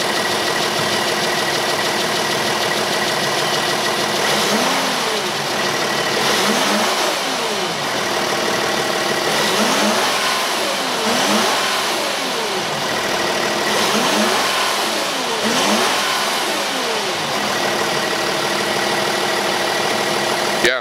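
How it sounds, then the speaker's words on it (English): A 2010 VW Touareg V6 TDI diesel with its stock exhaust runs steadily and fairly quietly, close by, with several moderate revs rising and falling over the idle. "I'm going to get an exhaust clip right now of what it sounds like before."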